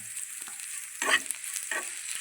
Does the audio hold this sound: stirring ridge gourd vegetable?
yes